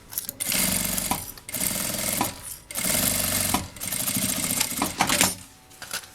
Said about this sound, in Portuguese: E vamos passar uma costura reta bem na beiradinha, só pra segurar mesmo essa aba aqui no corpo.